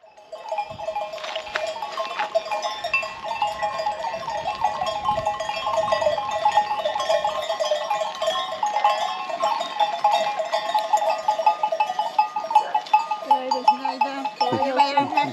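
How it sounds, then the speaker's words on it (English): Flock of sheep driven past on a rural road along Turkey's Aegean coast, a dense chorus of overlapping bleats with jingling bells throughout, close and steady, a few louder calls near the end. "now we're in the middle of a sheep drive"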